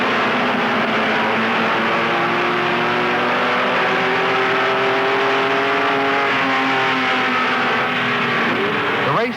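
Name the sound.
race cars at Daytona speedway race start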